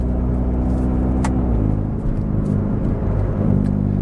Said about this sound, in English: wide open throttle sounds 10 times better than like that low speed driving